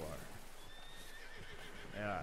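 A horse whinnies in a snowy scene in Red Dead Redemption 2, its neigh rising briefly over steady game ambience, with a short snort or second call at the end.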